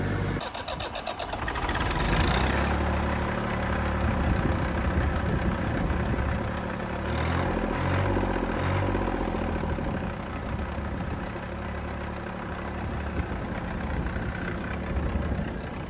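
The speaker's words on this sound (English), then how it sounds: "the joys of using a vintage tractor" Vintage tractor engine running steadily during haymaking, a loud continuous mechanical drone with a rough low throb and a brief surge in the middle, heard alone without voices.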